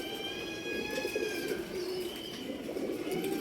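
A breeding pigeon coos steadily and close by, a soft, continuous rolling coo with no talk over it.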